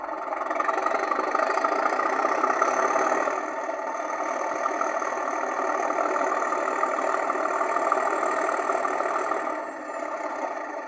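Class 37 diesel locomotive sound on a Heljan O gauge DCC model notching up, a steady engine drone with a slight rise in intensity partway through, continuous and fairly close with no talking.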